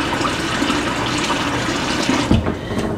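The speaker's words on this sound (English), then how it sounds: "Adding water." Water running from a tap into a pan, to cook rice: a steady, close rushing splash lasting a few seconds, with a brief knock near the end.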